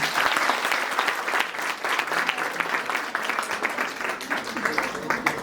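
A college audience claps loudly for a Nurses Day skit by students, a dense, sustained burst of applause with crowd noise and voices mixed in throughout.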